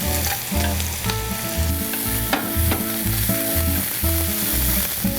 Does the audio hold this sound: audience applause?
no